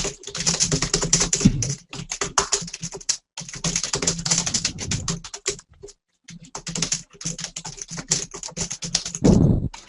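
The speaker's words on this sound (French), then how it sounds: "Il tape comme un fou là sur son clavier" Fast typing on a computer keyboard, rapid close-up key clatter in quick bursts with a few short pauses between runs.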